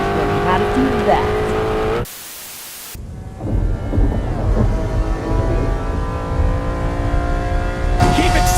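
Hot Wheels Acceleracers race car with remade engine sounds, accelerating loudly with a steady roaring drone, briefly cut off by a burst of noise, then continuing with rising engine tones under faint background voices.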